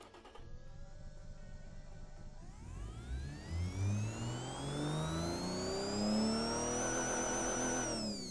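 A supercharged car engine with a centrifugal supercharger and no muffler, in a car-building video game, idles briefly, then revs up in one long rising whine that climbs and holds near the top, loud and alone.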